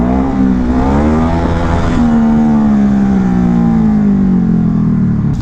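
A Hypermotard motorcycle rides on a bumpy road with its engine loud and close, its pitch rising and falling through acceleration and shifts under heavy wind rumble.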